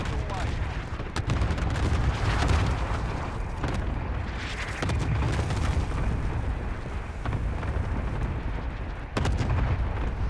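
Cluster strike explosions in Call of Duty: Modern Warfare roll on as a dense, continuous barrage of heavy booms and crackling blasts, loud and close for ten seconds.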